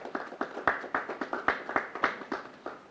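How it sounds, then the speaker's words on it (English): Audience members at an ambassador announcement event clap in a sparse, uneven patter of individual claps, a few distinct hand strikes per second, fairly close. "Can we clap for Ayman, please?"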